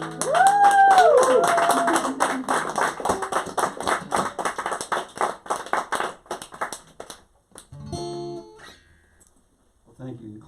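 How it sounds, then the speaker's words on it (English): Audience applause in a lounge show setting, a dense burst of clapping that fades out over several seconds, with a little talking at the end. "You clapped anyway."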